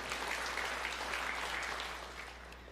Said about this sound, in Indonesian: Yang setuju berikan tepuk tangan yang meriah buat Tuhan